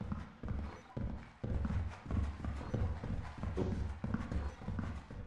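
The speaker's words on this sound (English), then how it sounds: "You don't hear those footsteps?" Repeated heavy clopping footsteps in a video game maze, a steady thudding rhythm of hollow, fairly close steps carrying on throughout at a moderate, quiet level.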